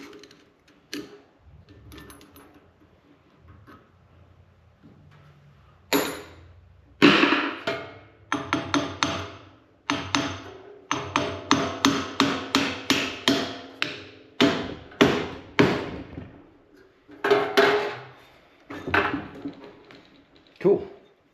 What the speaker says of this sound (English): just by tapping it, it released that